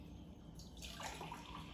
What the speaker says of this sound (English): So we start again with our carbonated water, our seltzer water.